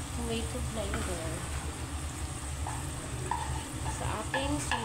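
Tomato being added and stirred into a sizzling pan while cooking eggplant and meat moussaka, with steady loud frying and scraping stirs throughout and a voice talking faintly underneath.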